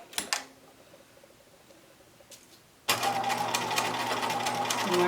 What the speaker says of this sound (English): I'm going to sew it at 1/4 of an inch in